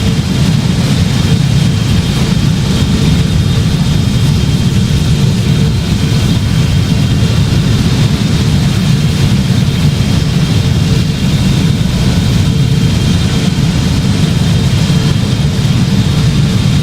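Boeing 777-300ER jet engines in the Project Flight game drone on steadily during approach, a loud, constant broadband roar with a low rumble and no break.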